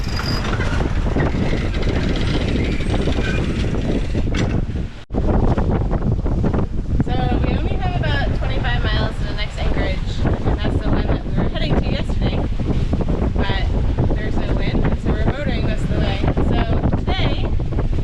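Strong wind gusts buffet the microphone aboard a sailboat under full sail in a 10 to 15 knot breeze. The rushing is loud and continuous, with a brief dip partway through, and voices are partly heard under it.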